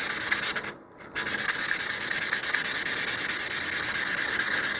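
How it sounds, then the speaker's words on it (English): Steady sanding scrapes across a cardboard model rocket body tube, roughening its surface in a continuous loud rasp with one brief pause near the start, close up and with no voices. "so I'm just going to roughen up that whole area."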